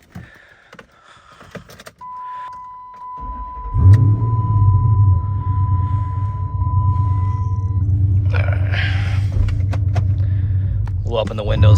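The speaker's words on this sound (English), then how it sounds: "We'll open the windows here, you guys kind of hear the exhaust" A modified Dodge Charger SRT8 idles with a steady, deep rumbling exhaust, heard through open windows from inside the car, with a long tone sounding early on and brief talk and clicks at the start and end.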